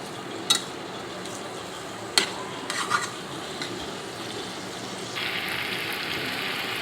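Chilli chicken being stirred in a pan as sauce is mixed through, with a few sharp spoon-on-pan knocks over a steady soft scraping and a low sizzle that grows a little louder toward the end.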